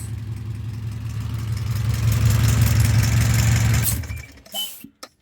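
A cold car engine in a wagon with a swapped 81k engine idles steadily after an ECU fix. The low throbbing rumble builds slightly, then cuts off, followed by a few clunks close by.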